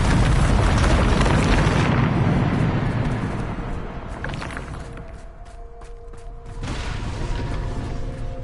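Bombarda spell detonating in the Hogwarts Legacy video game: a loud, broad blast that rumbles and crackles for about two seconds, then decays into a lower debris-like rumble with faint tonal game sounds beneath.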